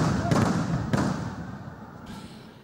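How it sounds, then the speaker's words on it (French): Fireworks explode in the sky over Pau at an officers' ceremony, with a few deep booms spaced apart, each trailing off into a fading rumble and crackle. "les nouveaux officiers reçoivent le flambeau sous les feux d'artifice, illuminant et retentissant dans le ciel de Pau"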